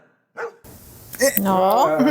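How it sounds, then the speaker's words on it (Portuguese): A little dog barks and yips in a few short, high bursts from a film scene shown in a reaction, mixed with people talking. "Cachorrinho."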